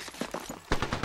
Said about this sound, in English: That shotgun sucks.